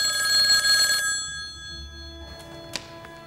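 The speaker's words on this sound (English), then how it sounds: "That's when the phone rang." A telephone rings with a bright, steady electronic tone for about a second and then stops, leaving a quiet room with one faint click.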